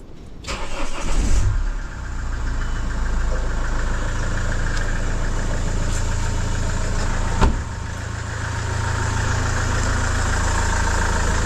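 A vehicle engine is started cold, catching with a loud burst and then settling into a steady, close, low rumbling idle that runs throughout, with one brief knock partway.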